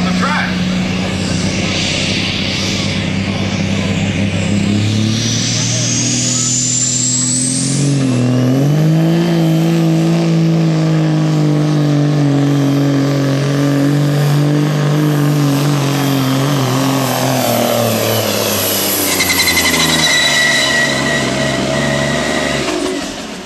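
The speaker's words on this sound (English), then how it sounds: "the worse these engines run and idle, the worse they sound, the better they go up the track" ATPA big rig race truck engines at Buck Motorsports Park drag strip roar and rev loudly and continuously, a deep, rough-running rumbling tone rising and falling across the whole stretch, with a commentator talking over it.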